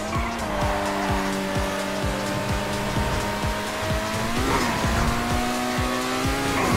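Overflod Autarch supercar in GTA 5 Online, its engine droning steadily at high speed with rising and shifting pitch, tires squealing and skidding underneath throughout.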